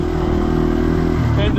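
A Yamaha TW200 motorcycle riding on a mountain trail, its engine a steady low drone with a droning harmonic rumble throughout, close and loud.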